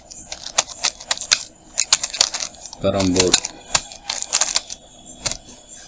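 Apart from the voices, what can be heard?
typing on a computer keyboard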